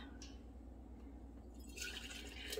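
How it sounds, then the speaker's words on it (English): Hot boiling water poured into hot canning jars while preparing ham bone broth, a steady close liquid pour that grows brighter and louder in the last second as the jars fill. "I've got some jars and some hot boiling water over here, and I'm just going to use this to fill up these hot jars."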